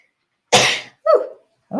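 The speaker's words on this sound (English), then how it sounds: "I think I'm going to sneeze." A single loud, close sneeze is followed by two shorter throat sounds, one like a cough or sniff, each separated by brief silence.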